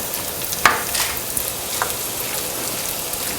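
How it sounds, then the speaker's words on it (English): Polenta casserole ingredients warm in a pan on a medium-high stove, giving a steady close sizzle with a few sharp scrapes and clicks of stirring. "we'll put it on medium-high just to warm up the ingredients and mix it all together"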